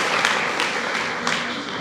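Applause from an audience at a Buddhist vihara gathering in Nagpur, steady dense clapping filling the whole moment at moderate loudness, with no voices over it.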